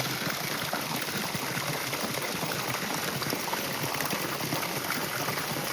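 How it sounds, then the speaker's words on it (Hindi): Rainwater rushes steadily through small hill streams, gullies and along paths during the monsoon, a dense, continuous broadband wash, loud and close with no voices. "रास्तों में भी पानी बह रहा है।"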